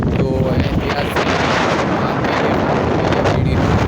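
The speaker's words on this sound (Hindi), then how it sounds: "काफ़ी तेज़ हवा है बिल्कुल" Strong wind buffets the microphone on a rooftop 205 feet above Karachi, a steady, loud roar without pause.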